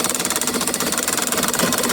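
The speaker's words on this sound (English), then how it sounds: "I'm gonna put this upright and cut a little lawn" A freshly sharpened push reel mower cuts a lawn, its spinning blades giving a rapid, even, rhythmic whirring chatter close by, with no talk.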